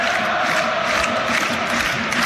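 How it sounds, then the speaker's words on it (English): Rangers fans clap and cheer in a football stadium during a Europa League match against Sturm Graz. A steady, distant crowd roar holds throughout without talk over it. "the Rangers fans found their voice, clapping over in the corner to our left"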